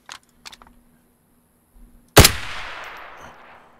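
A single loud gunshot cracks in DayZ during a bear fight, its echo trailing off for over a second, after a few faint soft clicks and near silence.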